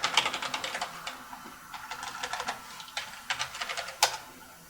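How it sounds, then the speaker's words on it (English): Computer keyboard typing a DISKPART command at a Windows command prompt on a CyberPower PC, a run of quick, close key clicks with brief pauses and a sharper final keystroke like hitting enter. "We type DISK PART and hit enter."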